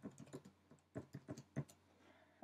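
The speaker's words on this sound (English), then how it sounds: "if I type in my message" Soft, close keystrokes on a computer keyboard as a message is typed into a text field during iOS app development, a quiet, uneven run of clicks with a short pause in the middle.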